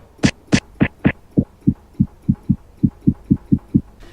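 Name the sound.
kick drum beat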